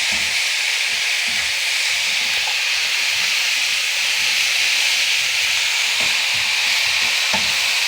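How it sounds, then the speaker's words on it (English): Mushrooms sautéing in grapeseed oil in a pan for a veggie lasagna, a loud, continuous close hiss and sizzle throughout with faint low scraping underneath, no voices. "I'm just going to cook down my mushrooms just a little bit"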